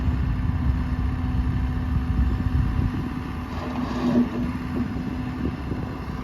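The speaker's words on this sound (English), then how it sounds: "That is the JCB diesel motor." Diesel engine of a JCB JS 160 excavator idling steadily, a low continuous rumble with a faint hum, heard alone at moderate distance with some wind on the microphone.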